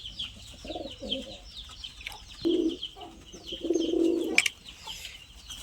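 Male fancy pigeons coo repeatedly at home, several low throaty burbles, the longest near the end, with busy background chirping from other birds.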